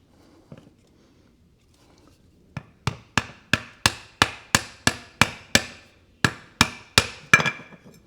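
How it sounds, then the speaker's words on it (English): A rawhide mallet strikes a garden tractor steering axle part in about fourteen sharp, evenly spaced blows. The knocks are close and loud, with a faint handling noise just before them. "Figure rawhide mallet would be plenty enough."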